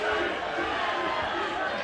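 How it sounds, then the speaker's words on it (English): A crowd at a Varsity 2018 boxing bout shouts "cheat", a dense, steady roar of voices filling the venue and blending with nearby chatter. "Crowd shouting cheat"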